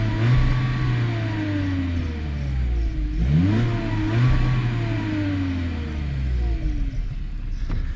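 A 2021 Volkswagen Jetta engine revving, with several loud rising and falling revs of a mid-pitched engine heard close up, steady idle rumble between them.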